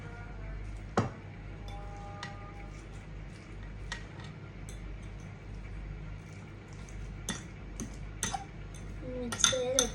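A fork works food around a bowl, giving sparse clinks and taps of metal on the bowl over a low steady background hum, with a cluster of sharper clinks near the end.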